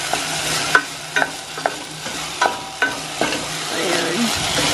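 Food frying in a pan is stirred, a utensil scraping and knocking against the pan in a series of close strokes over a steady sizzle.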